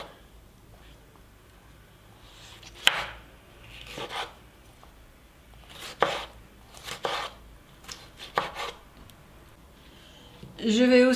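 A knife chops beefsteak tomatoes on a board in scattered bursts of cutting strokes, close and fairly quiet, with pauses between the cuts and a brief louder clatter at the end.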